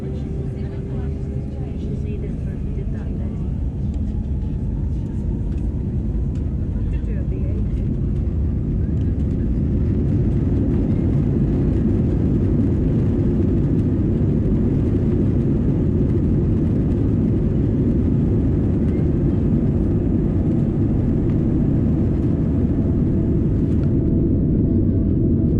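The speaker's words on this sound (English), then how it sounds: "Our takeoff runway today is 27 right." A British Airways Airbus A320 jet rolling for takeoff on runway 27 right at Heathrow, its engines building to a loud sustained roar and rumble that holds steady throughout.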